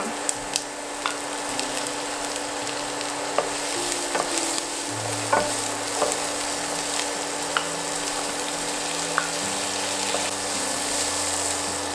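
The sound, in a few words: shrimp added to a frying pan, sizzling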